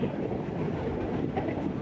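A continuous low rumble of a moving train on Sri Lanka's coastal railway beside the sea, steady and fairly faint, with a soft rattling texture and no voices.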